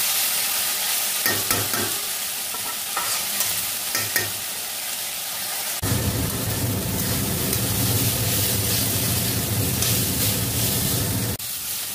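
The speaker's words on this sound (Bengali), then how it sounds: "এইভাবেই নাড়লে একটু ভাজা ভাজা হয়ে যাবে।" A spatula stirs chopped banana flower in a hot pan with sharp scrapes, then a loud, steady sizzle of frying takes over and continues close by.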